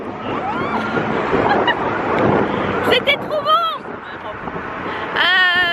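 Strong gusty wind roars and buffets the microphone outdoors on a Las Vegas street. People talk and exclaim over the rumble.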